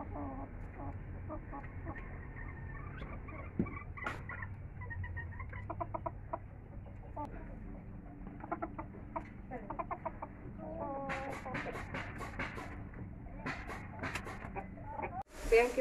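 A hen and a rooster cluck softly and intermittently in the background, with brief louder bursts near the end, under a low steady hum and some quiet speech.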